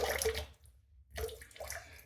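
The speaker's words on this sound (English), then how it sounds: "we're going to dip it in the water" A shaving brush with a 26-inch knot is dipped in water and wrung out before a shave with a Merkur 34C razor. Close wet squelching and dripping, a brief quiet gap, then more squeezing and splashing, with no talking.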